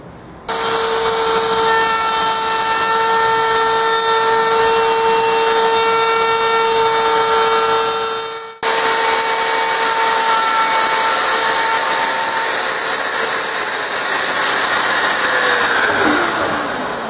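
A high-pitched router screams steadily while cutting grooves in wood for a small secretary desk, stopping briefly mid-way, then restarting and running again before winding down at the end; no talking.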